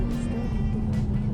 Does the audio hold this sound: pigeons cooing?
no